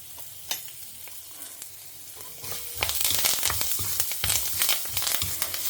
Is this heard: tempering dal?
yes